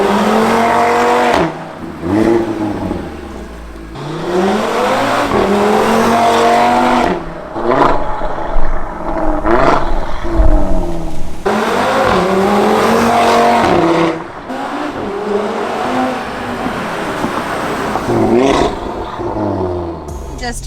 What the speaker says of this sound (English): we're going to start off this video with some more pulls so you guys can hear the car again